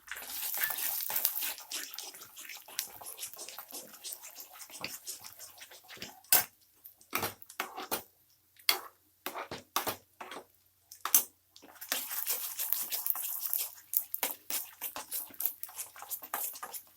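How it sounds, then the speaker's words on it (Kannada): Coconut pieces frying in hot ghee for khara pongal give off a crackling sizzle: steady at first, breaking into scattered pops midway, then settling back into a continuous fry. No one speaks. "ಈಗ ತೆಂಗಿನಕಾಯಿ ಚೂರು ಹಾಕ್ತಾ ಇದ್ದೀನಿ. ಫ್ರೈ ಮಾಡ್ಕೊಳ್ಳಿ."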